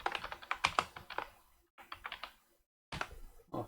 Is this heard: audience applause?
no